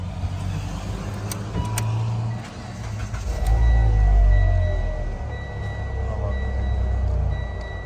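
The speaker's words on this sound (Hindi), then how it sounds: "स्टार्ट करो गाड़ी" A Mitsubishi Lancer engine cranks and fires up in a workshop during ABS fault diagnosis, settling into a close, steady idle with a faint electronic beep pattern over it and some background noise.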